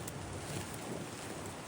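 Strong wind sweeps across a Maldives island outdoors, a steady, loud rushing roar buffeting the microphone throughout with no break.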